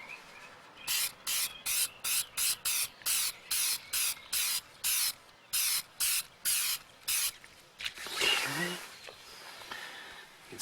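A can of UV protective spray fires in a rapid series of short, even hissing bursts, about fifteen in a row, then a longer, rougher spray. Faint and close, with no talking.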